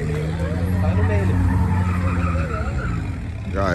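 Car spinning doughnuts at a cavalo de pau meet in Brasília, a loud continuous tire squeal with warbling pitch over a roaring engine, close and sustained, with voices faintly mixed in.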